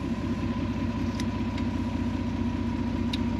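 A vehicle engine labours in second gear, with a steady, dense mid-range drone and a throbbing rumble under it. The sound is continuous and fairly close, with no talking.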